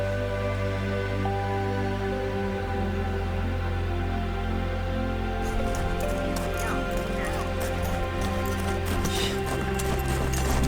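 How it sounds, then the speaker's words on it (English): Horse hooves clop along the Mount Fuji trail, a rhythmic series of sharp, moderately close hoof strikes starting midway over a constant low outdoor hum. "there's horses on Mount Fuji"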